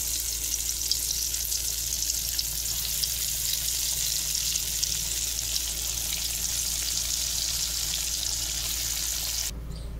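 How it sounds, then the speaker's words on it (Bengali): Pieces of lentil cake (dhoka) fry in hot oil with a dense, steady sizzle that holds level throughout, close and continuous, cutting off abruptly just before the end. "তেল গরম হয়ে গেছে, এবার ধোকাগুলোকে ভেজে নেব।"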